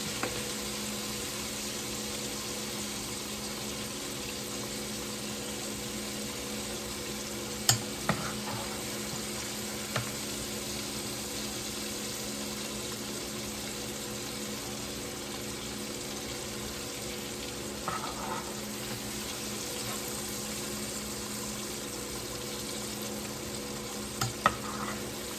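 Three slabs of spare pork ribs frying in a pan, a faint steady sizzle running throughout with a few soft clinks and stirring knocks.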